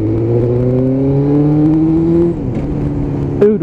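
Suzuki GSXR1000 sport motorcycle engine pulling hard on a short straight road, a loud close revving whine that climbs steadily in pitch, drops as the throttle closes, then spikes briefly again at the end.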